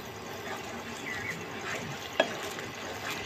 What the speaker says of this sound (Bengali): সসটা এবার এটাকে বারবার করে নাড়তে হবে